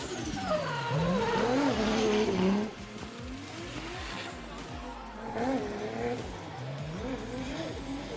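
A drift car slides through a wet D1GP track in Malaysia, engine revving and wailing with pitch swings as it transitions, loud and close, with a commentator talking over it.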